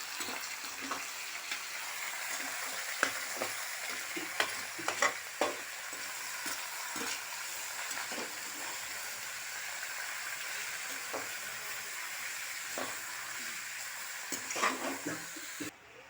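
Duck meat stirred and sautéed in oil, a soft, continuous sizzle with frequent light spatula scrapes and taps throughout.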